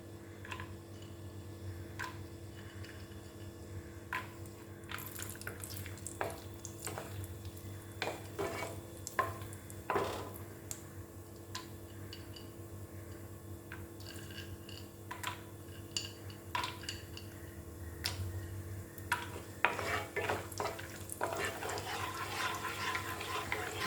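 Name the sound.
almonds and cashews roasting in ghee in a pan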